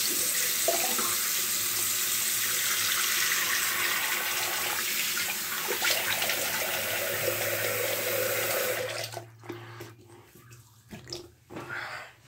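A bathroom tap runs as someone rinses off after a shave, giving a steady close rush of water for about nine seconds before it shuts off, leaving scattered drips and light splashes.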